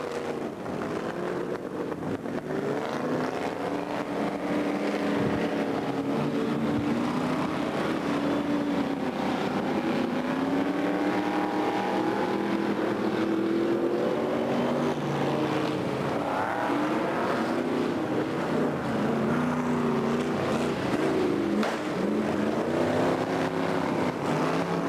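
Stock cars racing around a track on the final lap of a 1989 heat, engines droning steadily and loudly with rising and falling revs throughout, no talk over them.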